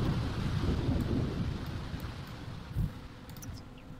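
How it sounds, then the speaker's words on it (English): Steady rain patters over a low rolling rumble of thunder in The Sims 4, a deeper thump of thunder swelling near the end, with no talking. "You're gonna go play in the rain. Don't go play in the rain right now."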